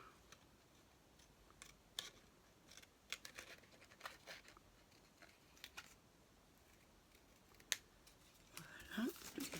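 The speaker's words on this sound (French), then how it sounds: "je vais découper mon petit fanion" Scissors snip through paper to cut out a small pennant for a handmade scrapbooking card, giving faint, scattered crisp clicks at close range that pick up toward the end.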